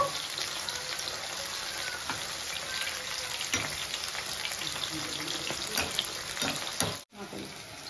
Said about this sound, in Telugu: లోపలంతా కుక్ అయ్యేదాకా బాగా ఫ్రై అవ్వనివ్వాలండి